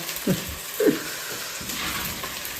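Browned onions fry in a pan with a soft, continuous sizzle and light stirring scrapes, close by but moderate in level, with a couple of brief low murmurs.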